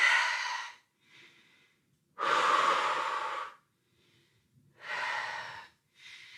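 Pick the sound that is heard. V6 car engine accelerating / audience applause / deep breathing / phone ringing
deep breathing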